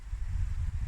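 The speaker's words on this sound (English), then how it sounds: "the wind's picked up" Wind blowing outdoors in the woods, a steady low rumble buffeting the microphone with gusty swells throughout, no voices.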